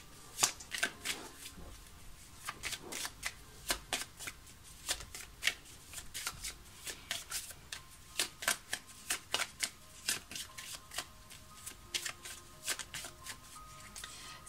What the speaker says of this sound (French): On va tirer maintenant la carte ici du tarot de Marseille.